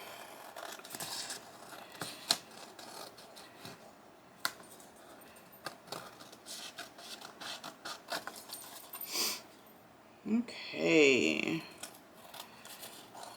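Scissors trim paper pages for a handmade journal, making scattered close snips and rustles over a quiet room, followed by a longer run of paper handling near the end; a voice speaks a word briefly.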